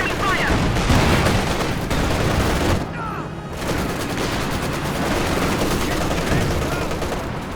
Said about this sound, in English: He has actually used the sustained fire to increase the suppression rate of his Maxim.